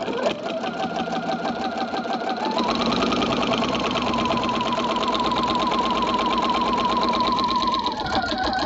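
A sewing machine quilting fabric through a walking foot, starting up and then running fast in a steady, close, continuous whir with a slight change in pace partway through.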